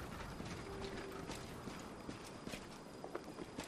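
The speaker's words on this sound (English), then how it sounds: "Horses." Horse hooves clip-clopping in the Pathfinder: Wrath of the Righteous video game, soft repeated hoof knocks with mechanical clicks over a steady game ambience, fairly faint.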